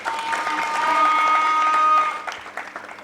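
An audience at a girls' education initiative launch ceremony applauds steadily, building briefly then tapering off, with no voices over it.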